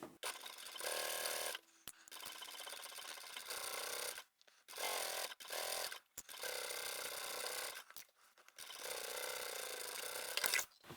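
A sewing machine stitches vinyl and upholstery swatches together for a zippered laptop handbag, running in several loud mechanical bursts separated by short pauses.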